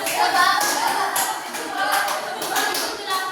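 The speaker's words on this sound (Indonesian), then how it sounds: "kita tepuk-tepuk terlebih dahulu ya" A classroom group claps together during a teaching session, producing rhythmic, fairly loud clapping in uneven bursts, with faint children's voices mixed underneath.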